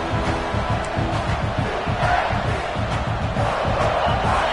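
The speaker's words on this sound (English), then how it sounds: "this big crowd doing everything possible to inspire this defense down here near the goal line" A big stadium crowd at a football game roars steadily as the defense holds near the goal line, a dense, continuous wall of cheering and chanting with rhythmic low thumps underneath.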